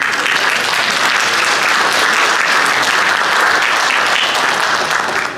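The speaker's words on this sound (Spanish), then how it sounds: "pido el aplauso de ustedes para" A seated audience at a historical society talk in Oberá gives loud, sustained applause, thick and even from start to finish, fading slightly at the very end.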